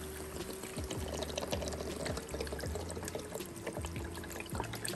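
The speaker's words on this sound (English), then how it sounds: "I'm going to put all my stock in it. I'm not using regular water. I'm using chicken broth and vegetable broth." Chicken broth and vegetable broth are poured steadily into a cooking pot for a turkey neck stew, giving a continuous splashing, gurgling stream that stays close and fairly loud throughout.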